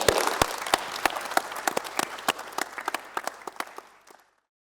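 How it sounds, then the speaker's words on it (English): Applause from a panel discussion audience, a dense burst of many hands clapping that starts strong and gradually thins and fades out over a few seconds, with no speech. "ask you just for a round of applause again for our panel"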